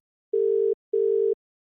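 Two steady, mid-pitched electronic phone tones, each lasting under half a second and separated by a short gap, then silence.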